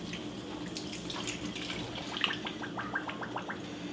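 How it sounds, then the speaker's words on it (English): Filtered water pours from a tap into a cooking pot holding beef heart with bay leaves, a burbling gurgling stream with a quick run of bubbly splashes toward the end, heard alone and fairly close. "Last of all, I'm just going to add some filtered water."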